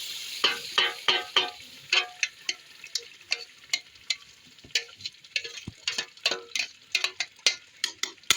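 Fresh mustard greens go into a pan of fried masala, giving a steady sizzle broken by many sharp clicks and taps of a spoon against the pan, close and fairly quiet.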